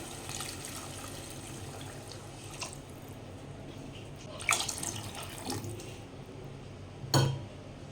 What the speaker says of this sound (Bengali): এর মধ্যে এবারে আমি দিয়ে দেব পরিমাণ মতো জল